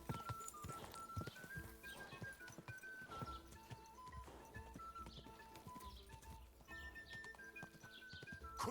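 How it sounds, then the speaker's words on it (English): A horse gallops in a video game, with a steady run of hoofbeats under a tonal game soundtrack and occasional soft effects. "does this horse have unlimited stamina or something?"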